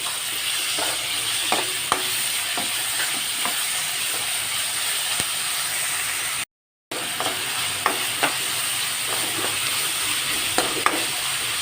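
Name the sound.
chopped tomatoes and onions frying in a pan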